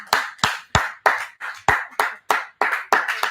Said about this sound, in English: Makoko, let's clap for her.